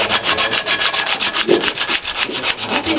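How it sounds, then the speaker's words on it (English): Sandpaper rubbed by hand over a wooden halving joint, a steady run of close, rhythmic scratchy strokes at an even tempo, roughly five strokes per second, with no voices. "I've got a little bit more sanding to do on that one."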